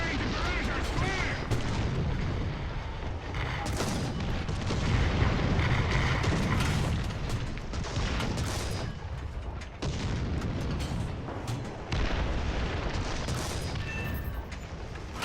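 Artillery barrage in the War Thunder ground forces game, a dense continuous roar of booming shell explosions and gunfire, loud and unbroken, with a voice faintly underneath.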